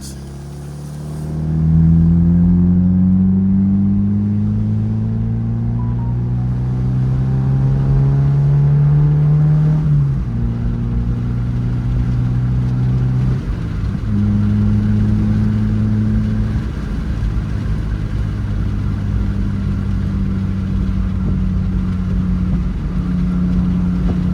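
Deep exhaust rumble of a Mazda MX-5 with a muffler delete pipe rising as the car accelerates, then dropping with each gear change and settling into a steady cruising drone.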